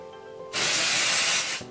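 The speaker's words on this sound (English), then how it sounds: "You'll want to spray this right in your root" Hair texturizing spray blasts into the hair roots in one loud, steady hiss lasting about a second, close to the listener, then cuts off sharply.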